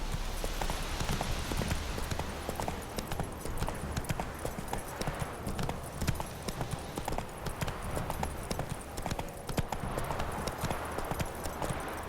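Hooves of the horse Roach clip-clop in The Witcher 3, a steady rhythmic trot on hard ground that runs throughout, close and fairly loud over a low ambient rumble.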